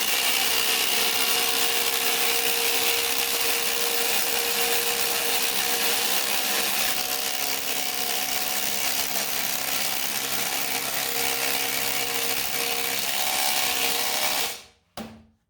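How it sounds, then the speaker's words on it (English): Ridgid and Cobalt impact drivers drive 5-inch screws into wood at the same time, a loud dense rattling hammer that runs continuously for about fourteen seconds before cutting off abruptly. "Fully charged up 2 on the new Cobalt. Got some 5-inch screws here."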